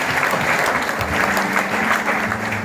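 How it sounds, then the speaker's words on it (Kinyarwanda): A church congregation applauds steadily and loudly throughout, a dense wash of clapping hands at a youth gathering. "Dukomereye Yesu amashyi menshi cyane"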